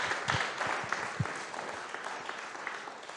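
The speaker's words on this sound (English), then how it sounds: "Can we give a applause to Simon?" An audience at a meeting gives a round of moderate applause, the clapping steady and evenly spread, with a few sharper claps early on before it slowly thins out.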